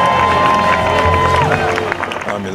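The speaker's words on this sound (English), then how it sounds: "Let's give a big cheer for the Dipsea" Spectators at the Dipsea trail race cheer and call out in a loud, continuous outdoor crowd roar, with a speaker's voice and a brief whistle-like tone over the noise.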